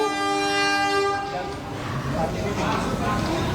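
A train at the evacuation site of a collision between a KRL commuter train and the Bromo Anggrek, with a tonal horn-like blast that gives way to a rumbling, noisy roar as a voice speaks over it.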